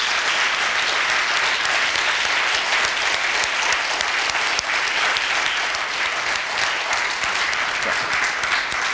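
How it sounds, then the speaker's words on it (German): Steady, dense applause from a panel discussion audience thanking five panelists, loud and sustained throughout without a break and with no voices on top. "am Ende nochmal einen ganz herzlichen Applaus für unsere 5 Panelisten"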